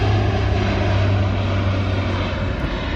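An airplane takes off at an international air show, its engine roaring loud and close as a steady, sustained drone with broadband rush throughout, no voices heard.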